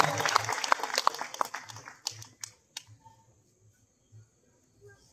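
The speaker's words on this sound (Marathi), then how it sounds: "त्यांनी सर्वांनी टाळ्या वाजवून त्यांच्या या कार्याचे कौतुक करावं" Audience applause at a Ghumat Arati competition in Warkhand, a burst of clapping that thins out within a couple of seconds into a few scattered claps, with a voice talking faintly underneath.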